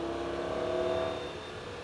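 A Lamborghini Gallardo engine accelerates on a track, holding a steady, loud roar with a high whine, easing off slightly toward the end.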